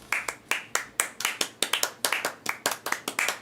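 One person claps hands near the mic in an uneven, somewhat random rhythm, about sixteen sharp claps over a few seconds with no talking.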